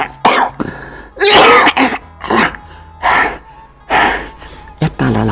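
A man coughs several times in a narrated drama, a series of loud, close bursts with throat clearing and sharp breaths between them.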